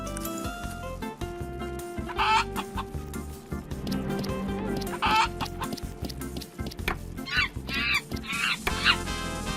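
Chickens cluck in repeated bursts as an animal sound cue in the Roblox Piggy video game, with sharper squawks toward the end over a busy game backdrop.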